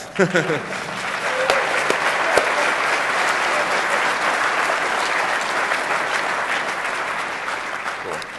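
Sustained applause from a DEFCON 19 conference talk audience, a dense wash of many hands clapping that starts sharply and holds steady, with a few voices mixed in.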